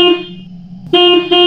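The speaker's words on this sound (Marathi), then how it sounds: "न राहून त्याने गाडीचा हॉर्न वाजवला." A car horn honks twice: a long steady blast, a brief pause, then a second sustained blast that cuts off and resumes near the end, loud and close, with a low engine hum underneath.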